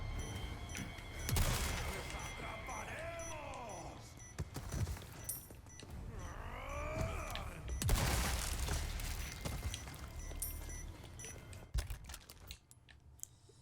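Weapon fire in Resident Evil 4 comes as sharp bursts of shots spread across the stretch, heavier at a few moments, mixed with game effects and clattering, some of it heard beneath talk.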